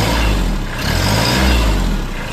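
A Kubota tractor engine revs loudly and close by as the accelerator is pressed, holding a steady, heavy rumble that swells slightly mid-way through.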